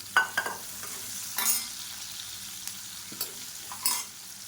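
Chopped onions and garlic fry in a pan for idli sambar, with a soft sizzle beneath several sharp scrapes and knocks of stirring.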